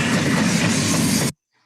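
A loud, dense crash of rumbling metal and impact noise roars continuously, then cuts off abruptly into near silence.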